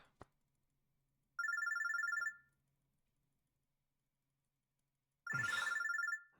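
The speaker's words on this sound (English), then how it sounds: "Phone's ringing." An in-game mobile phone ringtone from the visual novel Robotics;Notes Elite, two loud bursts of rapid electronic trilling, each about a second long, separated by a few seconds of near silence, with a brief voice at the end.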